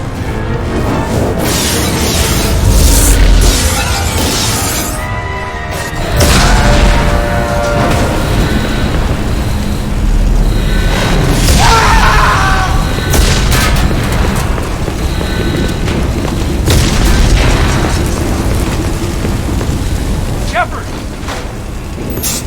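Explosions rock the Normandy starship in Mass Effect 2 (Legendary Edition): dense, loud, continuous booms and crashes with heavy rumble, surging repeatedly across the whole stretch amid alarm-like game sound effects.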